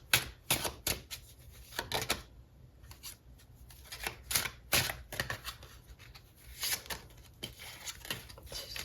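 Tarot cards being shuffled and handled during a love reading: a quick series of crisp clicks and soft slaps, bursting in irregular clusters close by with short quiet gaps between them.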